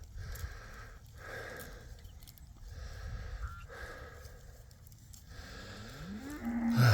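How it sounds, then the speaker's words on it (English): Cattle moo repeatedly in low, drawn-out calls at a moderate distance, with soft sniffing and shuffling in a quiet outdoor setting. "the cows are not too excited about this move."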